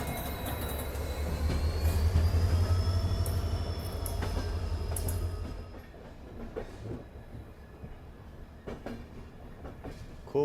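Diesel locomotive of the Marudhar Express, from the Abu Road shed, pulling away from a station with a loud engine drone and squealing wheels on a curve, the rumble fading after a few seconds into quieter clacking rolling-stock noise.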